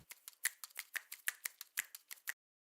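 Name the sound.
finger snap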